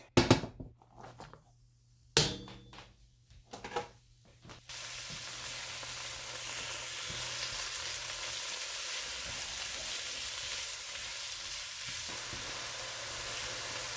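Sweet peppers, tomatoes, garlic, ginger and basil hit a hot pot with a few knocks and clatters, then a loud, steady sizzle of frying continues to the end.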